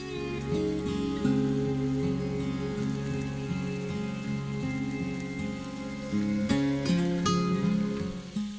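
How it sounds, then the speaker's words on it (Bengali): A large chopped onion fries in oil with a steady, dense crackling sizzle like rain on a surface. Tonal music plays underneath throughout. "আমি এখানে একটি বড় সাইজের পেঁয়াজ দিয়ে দিলাম। পেঁয়াজটি ভালোভাবে ভেজে নিতে হবে।"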